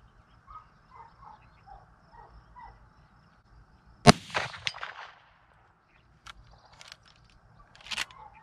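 A .44 Magnum carbine shot at 125 yards: one loud sharp report followed by a decaying ring, then faint distant metallic pings from a steel target, with quiet outdoor ambience before and after.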